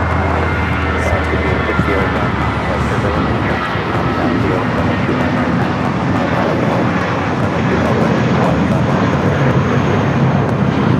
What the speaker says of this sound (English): Our next arrival is that Cathay Cargo Queen coming in from Dallas Fort Worth.